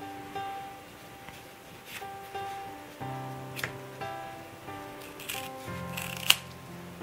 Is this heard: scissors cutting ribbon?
yes